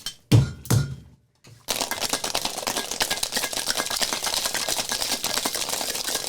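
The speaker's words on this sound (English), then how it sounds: "I realized I'm an idiot while I was putting ice in that highball glass" Ice cubes clink and thunk into a highball glass in two sharp knocks, then a busy, continuous rattle of ice and glass carries on at close range.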